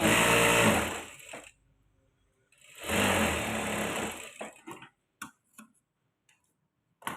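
A sewing machine stitches a folded blouse neck piece in two loud, close, whirring runs separated by a pause, followed by scattered clicks and fabric handling.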